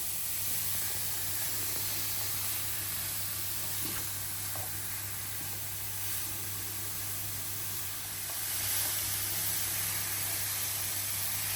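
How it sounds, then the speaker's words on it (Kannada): Carrots roast in ghee in a pan for carrot halwa, giving a faint, steady hiss and sizzle with no clear pops, continuous throughout. "ಅದೇ ಪ್ಯಾನ್ಗೆ ಕ್ಯಾರೆಟ್ ಹಾಕೊಂಡ್ಬಿಡಿಪ್ಪ. ತುಪ್ಪ ಎಲ್ಲ ಇರುತ್ತಲ್ಲ, ಇದು ತುಪ್ಪದಲ್ಲೇ ಹುರ್ಕೋಬೇಕು ನೀವು."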